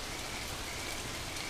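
Sudden heavy rain pours down on the Serengeti, a dense, constant hiss of downpour with no pauses, loud and enveloping.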